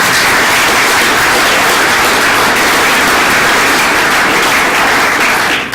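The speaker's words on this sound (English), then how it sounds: "I share your applause with you" A large audience claps loudly and steadily throughout, a thick unbroken wash of applause with no voices on top.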